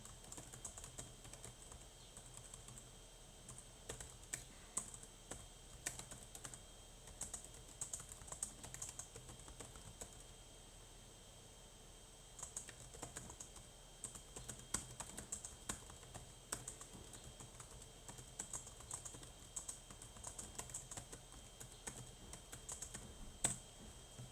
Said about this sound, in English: What I just said now, I typed it in the chat box.